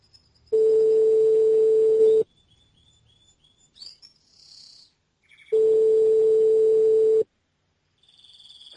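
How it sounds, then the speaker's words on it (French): A telephone ringback tone plays while a call to a McDonald's restaurant connects: two steady, loud beeps about a second and a half long, separated by a quiet pause, with faint electronic chirps in between. "Allez, on rappelle le McDo."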